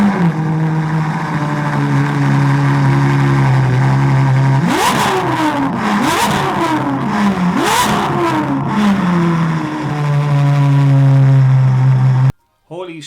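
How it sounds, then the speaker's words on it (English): Ferrari 812 Superfast with a Novitec exhaust system revs hard from a steady idle, climbing through three sharp rising pulls with crackling overrun between them, then settling back to a loud, close idle. "it sounds unbelievable with this Novitec exhaust system on it as well"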